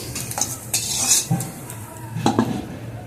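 Morula fish sizzles in a hot pan while a utensil scrapes and clinks against the metal a few times, turning pieces over, with no talking.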